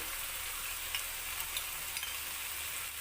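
Spice paste with tomato sauce frying in a pan for egg curry, a continuous soft hiss of sizzling, a few small spits and pops, no voices.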